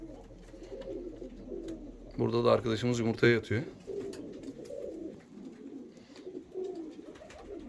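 Pigeons coo softly and continuously in a clean breeding coop with grated floors, low throaty phrases rising and falling, while someone speaks briefly in the middle over them.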